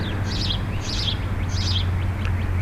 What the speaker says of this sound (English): Listen to how loud the birds are here.